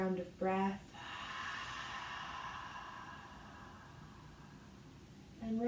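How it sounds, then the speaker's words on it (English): An open-mouth exhale during a yoga breathing exercise, a long soft breathy rush of air lasting several seconds, close and gentle, bracketed by brief spoken words. "An open mouth exhale on your next round of breath."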